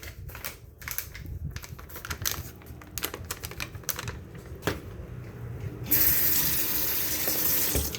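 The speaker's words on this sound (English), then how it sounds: "Wash my hands a bit." A kitchen tap runs for handwashing during a cooking session. Light clicks and clatter come first, then the tap gushes on near the end as a steady, close hiss of flowing water.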